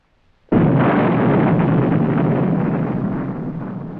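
H-bomb ground burst: a sudden massive blast erupts after half a second of quiet, then a dense broadband roar rumbles on and slowly fades.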